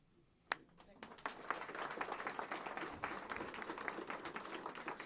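Crowd applause at a governor's event with hospital leaders, a dense, steady patter of many clapping hands that swells after a sharp first clap and holds for several seconds, with murmuring voices beneath.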